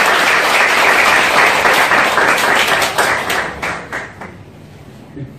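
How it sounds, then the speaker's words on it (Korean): A congregation bursts into loud, dense applause honoring a group of church members during a sanctuary visit, then the clapping thins and fades away toward the end. "박수 한번 주십시오."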